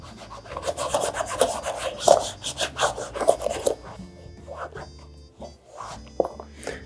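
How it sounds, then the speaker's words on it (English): Leather balm rubbed by hand over a shoe, close soft brushing and scuffing strokes in an uneven rhythm, stronger at first then thinning to sparse light rubs and taps. "kind of rub it all over the shoe"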